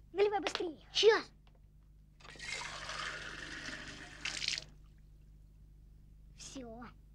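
Water poured into a glass jar for a caught fish, a soft continuous splashing pour lasting a couple of seconds, with a voice speaking before and after.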